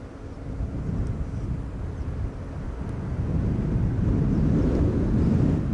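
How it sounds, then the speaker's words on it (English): A KLM Boeing 777-200 airliner arriving at Schiphol Airport after a long-haul flight from Tokyo, heard as a steady low jet rumble that slowly swells louder, mixed with some wind noise. "This is KLM flight 862 arriving from Tokyo Narita. 13 hours and 8 minutes on the way. It is a 777-200"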